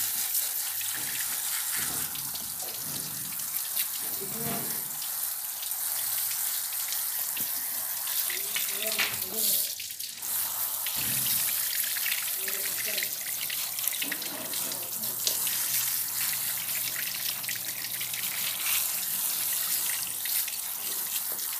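Running water gushes and splashes steadily from a tap, rinsing a K&N drop-in air filter from a Ford Fiesta Mk7 under the flow, with occasional clatter and shifting splashes.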